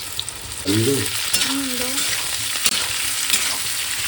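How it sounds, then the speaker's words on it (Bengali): Steady sizzling of capsicum and onion frying in a hot pan, with a soft stir partway through and faint tones of a voice in the background. "ক্যাপসিকামগুলো হাফ ভাজা হয়ে গেছে এইবারে দিয়ে দেব পেঁয়াজ"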